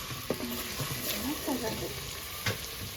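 Chopped onion sizzles and crackles in hot oil while being stirred, a steady close frying hiss with a few sharp scrapes and pops from the utensil.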